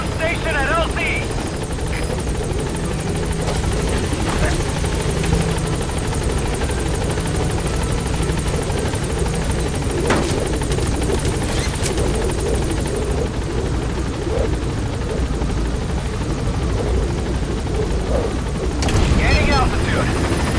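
Helicopter in the Metal Gear Solid V video game arriving at a landing zone, a steady loud rotor drone filling the whole clip with rumbling low end, faint radio-style voice chatter under it.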